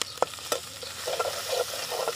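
Ground turmeric, chili, coriander, cumin and garam masala stir-fry in a pan, making a short burst of close sizzling with a few sharp spoon scrapes and no talking.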